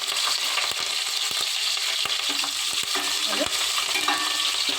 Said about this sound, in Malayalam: അപ്പോൾ നമുക്ക് കറിവേപ്പിലയും കൂടെ ഇട്ട് കൊടുക്കാം.